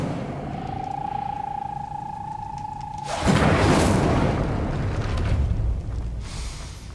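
The Incendio fire spell in the Hogwarts Legacy video game, a sudden loud whooshing blast that bursts in after a faint steady tone and roars on for several seconds before fading.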